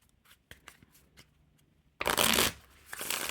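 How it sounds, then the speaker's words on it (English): A deck of White Team Canada playing cards being riffle shuffled, a few faint card taps first, then a loud fluttering burst of cards interleaving, followed by a softer second riffle sound, close up. "the design will get all mixed up when we riffle shuffle it"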